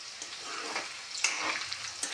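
Chopped onions sizzle and crackle softly in a hot pan with a steady frying hiss, occasional stirring adding brief bursts, fairly faint and without voices.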